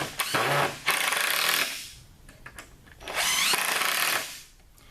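A power drill drives screws into the legs of a cheap, sturdy wooden sawhorse, with two long, loud whirring bursts separated by a quieter pause.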